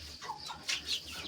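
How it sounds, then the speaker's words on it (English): Chickens on a small local farm in Nepal give a few short, faint clucks in quick succession over a quiet background. "40 chickens right now, and small chicken are here"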